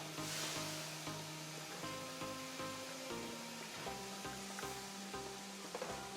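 A steady hissing trickle of water poured over ground Indonesian anaerobic-process coffee in a filter brew, continuous and fairly close, with soft background music underneath.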